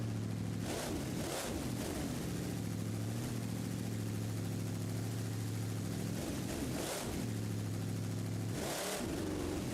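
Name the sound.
monster truck Bad News Travel Fast engine revving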